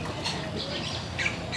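Birds squawk in a free-flight zoo aviary, a few harsh calls at moderate distance over steady background noise and low crowd murmur.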